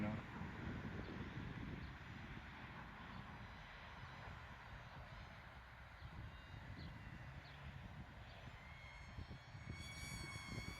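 An inexpensive small RC model airplane drones steadily overhead as it climbs and moves off in the wind, a thin continuous motor whine with wind buffeting the microphone throughout.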